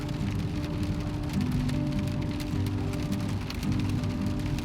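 Rain falls steadily on surfaces in Sault Ste. Marie, Ontario, a continuous dense patter with a low rumble underneath, moderately loud and alone without speech.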